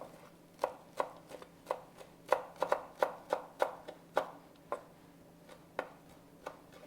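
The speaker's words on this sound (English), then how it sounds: "Now I've got some cilantro. I'm just going to cut off a nice big chunk like this and I'm going to chop it up" A knife chops cilantro on a cutting board for a chowder, giving a steady series of sharp, close taps, roughly one or two a second, with no voices.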